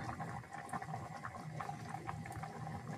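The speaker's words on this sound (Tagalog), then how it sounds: "At ngayon, ilalagay na natin ang cooking cream." Cooking cream poured slowly into a pan while cooking gives a steady, close bubbling, simmering hiss with soft liquid splashes running throughout, no voices.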